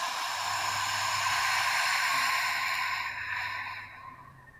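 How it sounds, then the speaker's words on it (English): A deep, slow exhale breathed close into a microphone: a long, soft rush of air that holds steady for about three seconds and then tapers off to quiet. "And then another breath, and then a slow exhale."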